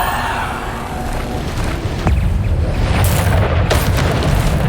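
A Bombarda spell goes off in the video game Hogwarts Legacy, a loud booming blast that rises partway through into a dense rumbling roar with sharp cracks.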